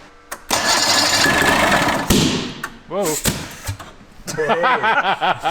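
An old snowmobile left abandoned for about twenty years cranks over, with bursts of engine churning and thumps, then voices talking excitedly over the fading mechanical noise.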